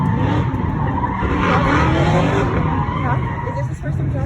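A car skids and glides around a track in a steady, loud roar of engine and tire noise with squealing slides, and voices can be heard over it.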